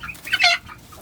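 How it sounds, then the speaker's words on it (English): Hens cluck briefly nearby around a feeder, a short burst of clucking over quiet outdoor background. "these other hens are really being territorial over it"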